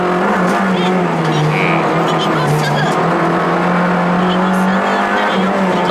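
A rally car drives quickly along a stage, its engine a steady, loud, close drone that rises and falls in pitch with gear and throttle changes, heard continuously under a voice talking.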